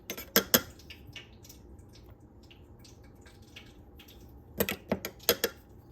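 A fork dipped in water presses down to seal the edges of saltfish pâté pastry dough, giving quiet clicking taps in a cluster at the start and another cluster near the end, with near silence between.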